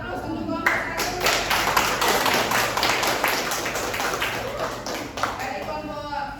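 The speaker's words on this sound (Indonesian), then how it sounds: "Mari aplaus untuk kelompok 1." A classroom group claps for group 1, giving a sustained burst of brisk, fairly loud applause from several people that tapers off toward the end.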